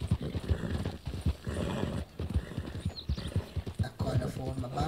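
Rhythmic clip-clop of horse hooves at a steady gallop in the video game Red Dead Redemption 2, loud and close, with a faint background hum.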